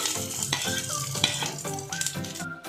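Cumin, onion and garlic frying in a pan for tomato soup, giving a steady close sizzle with stirring and scraping clatter throughout.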